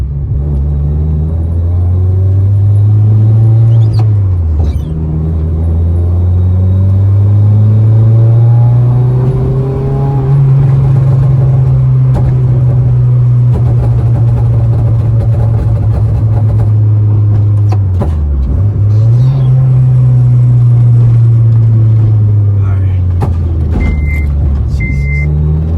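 Engine of an 8th generation Honda Civic Si revving, a loud, steady droning rumble that rises and falls through several throttle sweeps, with brief dips between pulls and no talking.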